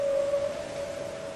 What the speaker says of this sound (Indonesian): Nah, seperti itu ya suaranya ikan paus